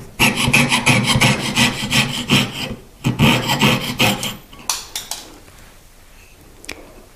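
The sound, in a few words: trimming metal for a jewelry box ring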